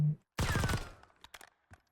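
A short burst of gunfire at a moving target in the video game Black Ops 6, loud and close, followed by a few quieter scattered impacts and clicks.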